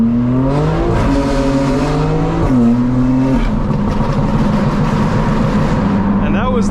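An 800HP BMW M4 Competition xDrive accelerating hard on a road, its engine note rising in pitch over several gear pulls while the tires lose traction, loud and close from inside the car.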